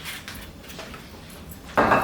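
A mixing bowl handled in a home kitchen while a shrimp jerk marinade is prepared, with faint clinks and scrapes, then a louder clattering knock of the bowl set down near the end.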